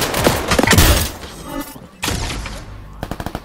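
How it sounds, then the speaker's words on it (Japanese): Air strike blasts launched from a leg skill in the shooter game Off The Grid hit as loud, rapid clustered explosions and crackling impacts, then a brief lull and a second wave ending in quick staccato bangs. "足から空爆出したんだよ、これ。"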